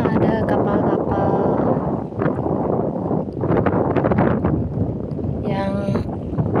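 Strong gusting wind buffets the microphone at a harbor pier at the Dumai fish auction dock, a loud, uneven rushing roar with someone speaking over it.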